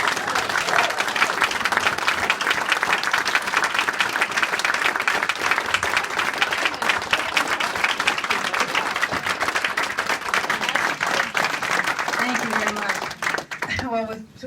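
An audience at a Cumberland, Maine town hall breaks into loud, sustained applause to welcome a guest, with dense clapping throughout before it thins and a voice begins at the very end.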